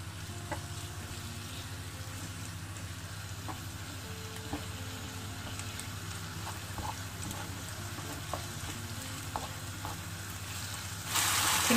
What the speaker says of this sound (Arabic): je fais revenir tous mes ingrédients